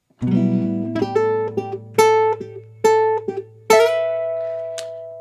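Jazz guitar plays a sequence of sharp chordal stabs, each ringing into the next, then a sustained melodic line that lingers and fades, alone and close.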